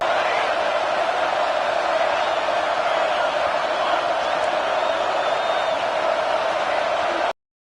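A football stadium crowd roars steadily and loudly on third and goal in a college game, a dense sustained wash of cheering that holds at one level throughout before cutting off abruptly.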